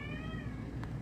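A female house cat in heat lets out a drawn-out, wavering meow, fairly close and clear, with no talking over it.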